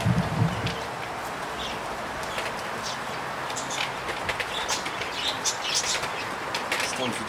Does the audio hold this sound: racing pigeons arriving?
yes